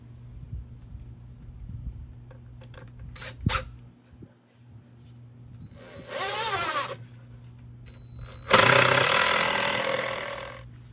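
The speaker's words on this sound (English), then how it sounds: "Take your drill and your drill bit" A power drill whirs in two bursts, the second louder and longer, with clanks and knocks of handling between them, while building a Kydex press from 2x4 lumber.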